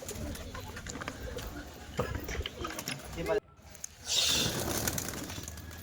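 Pigeons coo softly outdoors amid shifting background noise, with a brief drop to near silence midway before the sound swells back up.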